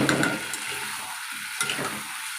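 Meat curry sautéing in oil in a pan gives a soft sizzle with a few scraping stirs and clinks spread through the clip, close and moderately loud, with no talking.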